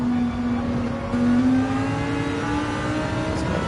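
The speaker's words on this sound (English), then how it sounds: "Really pushing that Supra as hard as he can." A Toyota Supra GTE race car, likely in a sim racing game, revs hard onboard, with a rising, sustained engine whine that climbs in pitch and briefly dips during shifts.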